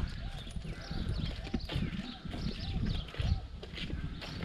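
Hooves of a quarter horse mare clip-clop at a steady walking pace on a ranch among cowboys, mixed with animal noise and faint background voices.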